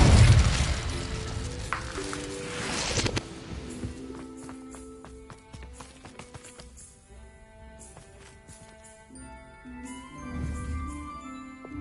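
An Incendio fire spell is cast in Hogwarts Legacy, a loud whooshing burst in the opening seconds that fades into shimmering, bell-like magical tones ringing out and slowly decaying.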